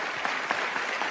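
A church audience at an evangelical sermon breaks into steady applause, a dense wash of many hands clapping together at even volume through the short stretch.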